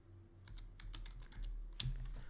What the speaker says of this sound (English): I'll type in honesty